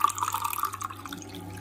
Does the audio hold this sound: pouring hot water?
yes